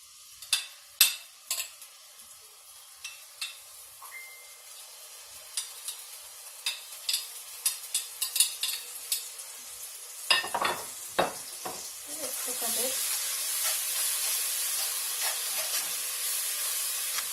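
Garlic paste and scallion sizzle in a pot of cornmeal grits, with scattered stirring clinks and scrapes early on, then a steady, brighter frying hiss building toward the end; no talking.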